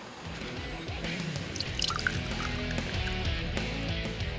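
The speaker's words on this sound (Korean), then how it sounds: "이 안에서 다슬기 그 진액들이 밑으로 똑똑 떨어지면서 이 받아낸 게 이제 다슬기 기름이에요" Freshwater snail extract drips from an upper crock down into a jar below, the traditional way of rendering snail oil; a steady scatter of small, close drops and trickles falls over a soft background.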